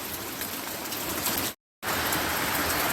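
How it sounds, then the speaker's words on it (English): Light rain falls outdoors as a steady, even hiss of fine drops, broken by a brief total dropout near the middle before the same soft patter resumes, with no voices. "The rain is falling. Not heavy, but it is falling."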